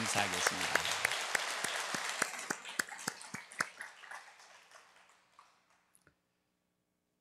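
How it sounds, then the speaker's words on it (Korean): A church congregation applauding in welcome, a burst of many hands clapping that fades out over several seconds, with a voice speaking briefly over it. "우리 한번 격려의 박수, 환영의 박수를 한번 해주시면"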